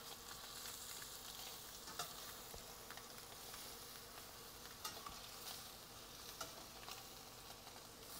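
Blackened scallops sizzle in a hot pan, a steady, fairly faint hiss with small crackles and a few sharper pops running through, with no talking over it.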